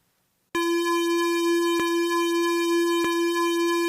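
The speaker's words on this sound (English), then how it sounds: "it's not perfect because you hear that little tick" A steady electronic tone with bright harmonics loops continuously, interrupted by a small tick at regular intervals of just over a second.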